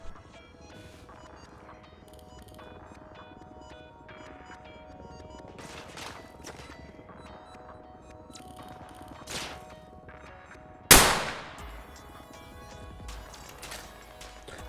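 Gunfire in the video game Arma Reforger: scattered distant shots crack faintly over a low ambient bed, then one loud sharp report nearby, followed by quieter echoes.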